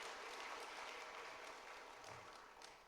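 Church congregation clapping together during a year-end Sunday worship service, a dense sustained wash of applause held for several seconds and gently fading, heard at a distance and fairly quiet.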